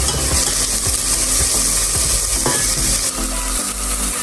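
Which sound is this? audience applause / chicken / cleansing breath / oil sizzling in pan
oil sizzling in pan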